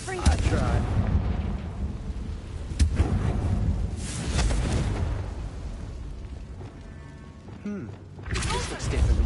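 Blasting-spell explosions from the fire spell in the video game Hogwarts Legacy, a string of loud booming bursts and rumbling impacts, with several sharp cracks spread through the clip, mixed with game sound and a voice speaking.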